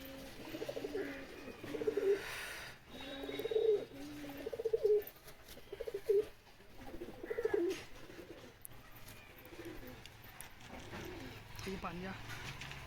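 Madras pigeons kept at Habra coo in a series of about six soft, throaty bursts close by, with people talking in between and over the calls.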